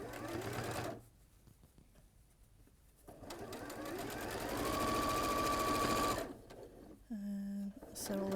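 A sewing machine stitching a quilt seam from the centre outward, bursts of fast rapid whirring and needle clatter separated by pauses, close and clear, with occasional speech between runs.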